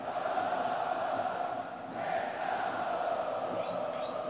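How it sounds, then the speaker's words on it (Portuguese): Goiás supporters roar inside the stadium during a Copa Verde quarter-final against Vila Nova, a steady, distant wash of crowd noise that holds at an even level throughout. "Sobe o volume a torcida esmeraldina."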